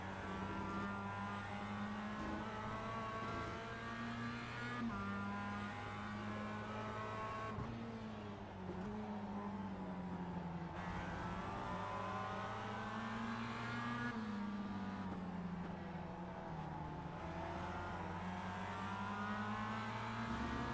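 Mazda MX-5 race cars in the Global Mazda series on iRacing roar continuously up close, the engine note rising and falling through gear changes for the whole stretch, with no pauses.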